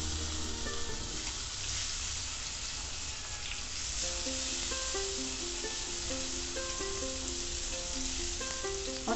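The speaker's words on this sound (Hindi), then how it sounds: "तेल गर्म हो चुका है तो उसमें मैं इन मैरिनेटेड ब्रिंजल को डाल दूँगी।" Marinated brinjal sizzles and fries steadily in hot oil in a pan, a dense continuous crackle throughout with soft background music.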